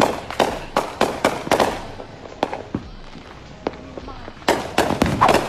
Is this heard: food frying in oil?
no